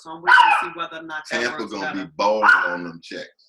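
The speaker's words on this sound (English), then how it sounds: "that's my dog in the background" A pet dog barks in the background of a late-night home talk show, short yips surfacing between and beneath steady close speech from a presenter.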